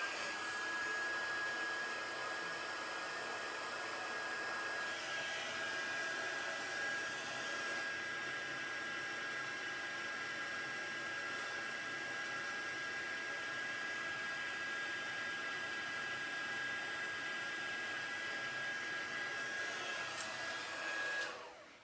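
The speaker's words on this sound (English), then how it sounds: "now we heat emboss again, so it's going to get loud again, but not for as long" A heat embossing tool blows hot air in a loud, steady whooshing roar that holds for about twenty seconds, close by, then cuts off at the end.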